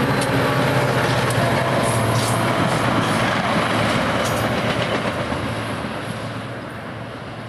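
A Music City Star commuter train rolls past on shared track in Nashville, a loud, steady rumble with wheel clatter that holds close throughout and eases slightly toward the end.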